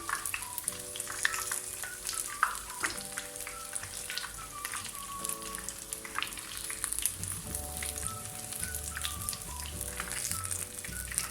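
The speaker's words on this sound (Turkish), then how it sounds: "Bu şekilde kızarmaya başladı." Chicken pieces deep-fry in hot oil for crispy fried chicken, with a steady, crackling sizzle and scattered pops, close by, while faint music plays in the background.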